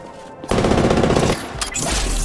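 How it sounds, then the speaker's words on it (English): Gunfire in Apex Legends: a loud, close burst of rapid automatic shots that cuts off abruptly, then fainter shots and game noise follow. "Shots fired at me."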